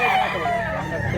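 A young rooster, a stag under a year old, crows loudly and close in one short sustained call.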